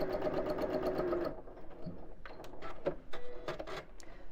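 A sewing machine hums through a steady run of stitching, then slows into uneven, stop-start bursts with faint clicks as the fabric is moved.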